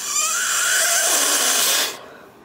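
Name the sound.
blowing on clay stuck in a cutter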